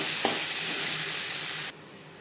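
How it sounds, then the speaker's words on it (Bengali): Chicken frying with ground spices such as roasted coriander and cumin in a pan for chicken ghugni, a steady close sizzle with a light stirring scrape near the start that drops abruptly to a quieter hiss near the end. "মশলার সাথে চিকেন কষিয়ে নেওয়ার পর"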